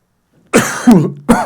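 Two close, harsh coughs after a moment of silence, the second one short and sharp.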